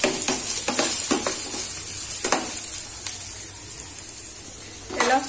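Onions fry in a hot pan while a spatula stirs them, giving a steady close sizzle broken by several sharp scraping strokes against the metal.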